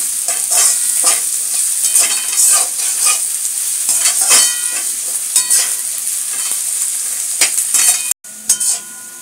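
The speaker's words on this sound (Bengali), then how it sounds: "দুটোকেই আমি ভাজবো বন্ধুরা, যাতে ব্রাউন ব্রাউন হয়ে যায়" Onion and carrot fry in a pan, sizzling steadily while a spoon stirs and scrapes in quick repeated strokes, with a brief cutoff near the end before the clatter resumes.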